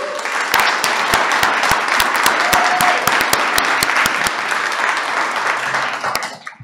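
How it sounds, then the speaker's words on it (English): A room of people applauds Tracy Zeeck at StarSpace 46, dense, sustained clapping that holds steady for several seconds, with sharp individual claps popping out near the front before it fades at the end. "give a big round of applause for Tracy Zeeck"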